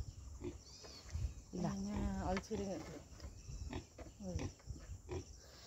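A pig grunts and squeals in a few short bursts, fairly close, with quieter snuffling between calls and faint insect chirps behind.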